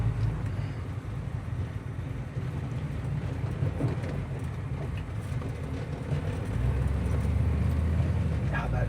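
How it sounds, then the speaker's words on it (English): A 1955 Chevy Bel Air engine idles low in gear with the air conditioning on, a steady, close rumble that holds throughout and grows slightly heavier near the end, with no talking. "it's still idling excellent with the air on, but it's just a little low idle"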